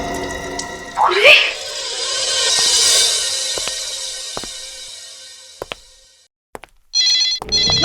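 A phone rings with a bright electronic tone that lingers and fades, followed by scattered clicks and then a fresh burst of ringing near the end.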